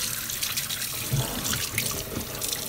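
A tap runs steadily as water rinses blue hair dye out of hair at a sink, a close, even rushing stream with slight splashing throughout.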